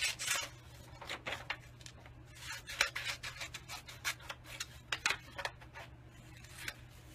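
Scissors snip through sheets of Scentsy sample label paper in a quiet room, a steady series of short crisp cuts and rustles, close and fairly soft, with no talking.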